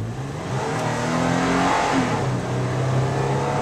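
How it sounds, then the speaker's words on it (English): A 2011 Toyota FJ with variable valve timing accelerates hard from about 25 mph, its engine drone loud, close and steadily building, with no talking. "I'm going to hit the gas and show you what this variable valve timing can do"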